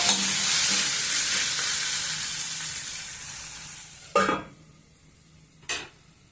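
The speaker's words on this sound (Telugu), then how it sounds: "ఇప్పుడు సాంబార్ పొడి వేస్తున్నాను. ఇది కూడా కొంచెం సేపు మగ్గనిద్దాము." Sambar simmers in a pan after sambar powder is added, a hissing sizzle that fades gradually, followed by two short scrapes of a spoon stirring against the pan.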